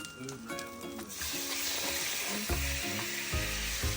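Chicken pieces frying in a pan with onion and garlic for a chicken curry, giving a bright continuous sizzle with scraping stir strokes and a few clinks, close and moderately loud, without speech.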